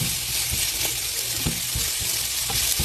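Onions frying in a pan for beef tacos, a steady close sizzle with light stirring clicks and scrapes and no talking.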